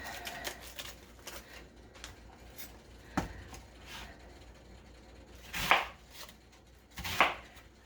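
A knife chops an onion on a cutting board while making beef stew, with scattered light taps and two louder, sharper chops near the end, close and clear with no talk.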